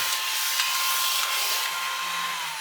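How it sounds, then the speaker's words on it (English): A small T-Hoo desk vacuum runs at a workbench during scale-model building. It makes a continuous, fairly loud airy whir with a thin steady whine and no talking. "this is a little T-Hoo desk vacuum, by the way, available on Amazon"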